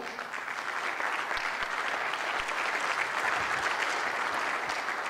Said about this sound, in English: Can we please have a special big round of applause for Meelis?